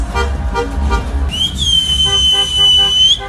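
Young men in uniform lean from Gelandewagen windows in a convoy at a military school and whistle loudly. A shrill, sustained whistle rings out over the outdoor commotion after shorter pulsing tones.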